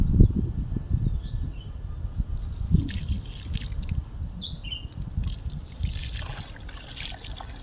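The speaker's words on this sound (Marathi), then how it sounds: "हे बघा पाणी आलं बघा" Water trickles and drips from a leaky, air-filled farm pipe in a field, a soft, uneven splashing close by with faint insect chirps in the background.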